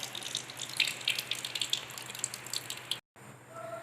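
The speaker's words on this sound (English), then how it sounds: "So after the boiling is done, I will cool it under tap water." Tap water runs steadily over a flask to cool it after boiling during a qualitative organic analysis in a chemistry lab: a continuous splashing rush that cuts off abruptly near the end, then resumes more quietly.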